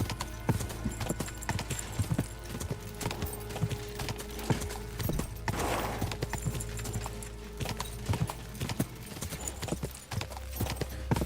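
Rapid hoof clip-clop of a galloping horse in the medieval video game Kingdom Come: Deliverance II, a steady fast rhythm of hoofbeats running throughout at moderate level.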